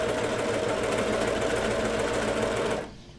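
A sewing machine hums steadily as it stitches a child's pajama hem, a fast, even whir of the needle that stops abruptly near the end.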